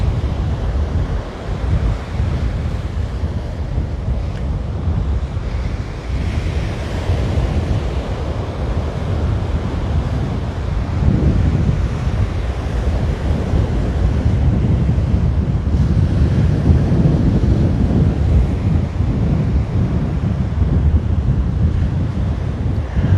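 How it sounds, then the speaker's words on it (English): Steady ocean surf at Waimanalo Beach, Hawaii, rolling continuously under heavy gusting wind that buffets the microphone, loud and close with no voices. "It may be a little muffled, hopefully it's not, but it's cutting down on the wind, hopefully a little bit for you guys."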